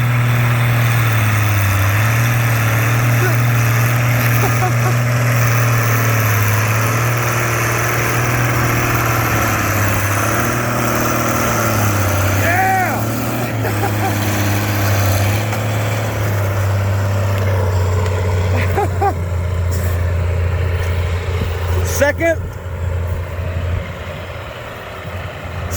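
An old tractor engine labors steadily in second gear while pulling a 301 on a 17, a loud, deep, continuous drone with slight shifts in pitch, close throughout and easing somewhat toward the end.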